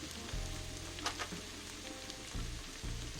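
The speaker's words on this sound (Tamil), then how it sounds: "சோயா சாஸ் ஆட் பண்ண உடனே திருப்பி ஒரு 1 நிமிஷம் நம்ம இதை வதக்கிக்கலாம்" Ivy gourd pieces sauté in soy sauce in a hot pan, giving a steady close sizzle with a few soft clatters and stirring bumps.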